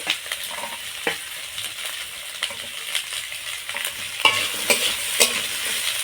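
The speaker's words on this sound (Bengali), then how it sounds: "সব সবজিগুলো কয়েক মিনিট এইরকম একটু নেড়ে নেব।" Mixed vegetables with spring onion and green peas are stirred in a frying pan for homemade pasta, a spatula scraping and tapping in irregular strokes over a soft sizzle, close and clear, with no voices.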